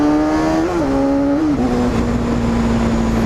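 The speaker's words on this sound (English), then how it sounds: "a bike that makes 50 horsepower sounds like this" A Honda CBR250RR motorcycle engine running loudly up close, holding a steady high-pitched drone with a couple of brief pitch dips as it shifts.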